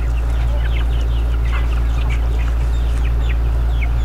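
Native chickens, free-range breeders and hens on a small farm, cluck and chatter in repeated short calls over a steady, loud low hum.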